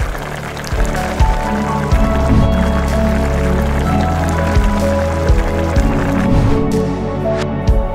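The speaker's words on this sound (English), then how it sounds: "Pour tomato sauce and simmer for 5 minutes." Tomato sauce is poured into a cooking pot for menudo, giving thick wet glugging and splattering, with soft clunks and drips, close and fairly loud, with no voices.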